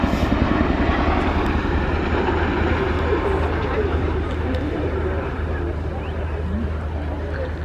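A military jet flying an air display at an RAF station family day, heard as a steady, loud broadband engine roar that slowly fades as it departs, with crowd ambience and commentary talk throughout.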